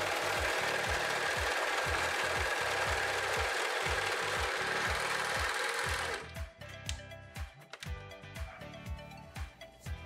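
A Sun Special SS-320 domestic overlock machine sews a test seam on sweatshirt fleece, with a loud, fast, steady mechanical chatter for about six seconds, then stops, leaving only a few faint knocks and handling sounds.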